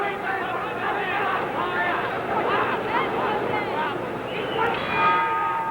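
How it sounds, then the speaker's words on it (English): A boxing bell ends round 12 of the Emile Griffith versus Jose Stable fight, ringing out near the end over a busy arena crowd murmuring throughout. "There's the bell."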